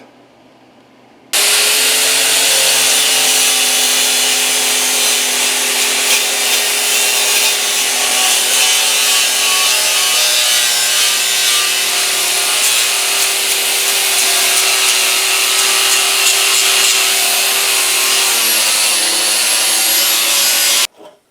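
Continuous loud saw cutting through 3/8 inch steel plate at an angle, a steady harsh grinding whine that runs unbroken for about twenty seconds and then stops abruptly.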